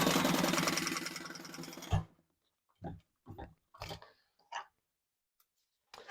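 A sewing machine stitches across a line on a double zip wallet, a dense, fast-running mechanical whir for about two seconds that cuts off abruptly, followed by a few short, separate bumps and clicks in near silence.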